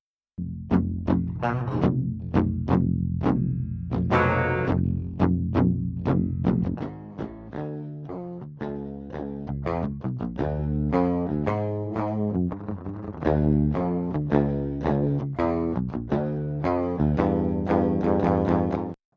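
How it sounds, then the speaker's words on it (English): Dry, unprocessed electric guitar DI chugging through steady rhythm chords for a metal track, thin and clanky without amp tone, continuous throughout with no voices. "this is an electric guitar DI. It's not supposed to sound great on its own"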